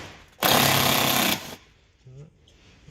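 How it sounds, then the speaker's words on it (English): A power tool undoes T25 Torx bolts on the front arch liner of a VW Tiguan Mk2. It gives one loud, rattling burst of about a second at close range, then stops, and a voice follows briefly. "So we're undoing the Torx bolts for the arch liner and the arch trim."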